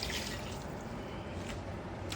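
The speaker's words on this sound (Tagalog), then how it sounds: "lalagyan po natin ng tubig, isunod natin" Water poured into a cooking pot, about two cups added after a few minutes of cooking, making a steady broadband splashing and trickling rush that runs continuously and fairly loud with no talk.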